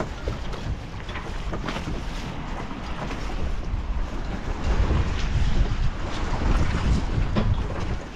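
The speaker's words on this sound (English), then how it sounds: "strong breeze today." Strong wind roars steadily across the microphone aboard a Hunter 216 sailboat in a stiff breeze after a hurricane, with low rumbling gusts building louder midway, along with water sloshing and boat noise and no talking.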